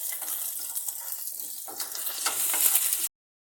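Chopped garlic sizzles steadily in hot oil in a pan for a ginger curry, a close hissing crackle that grows slightly louder before stopping abruptly.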